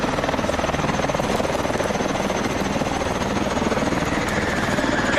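A Warbird aircraft engine from the game Call of Duty: Infinite Warfare, a loud pulsing thrum with a rapid chopping beat that holds steady and close.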